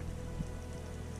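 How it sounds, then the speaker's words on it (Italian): A village fountain runs steadily below a castle, its water flowing in a constant, soft wash that sounds much like rain on a surface, faint and unbroken throughout. "Sia questa la fontana che dà nome al paese qua sotto"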